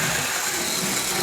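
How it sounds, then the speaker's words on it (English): Steady whirring hum of a small electric motor driving a model locomotive as it speeds around a track, loud, close and unbroken, with no talking. "Look at it speeding. You can even hear the motor."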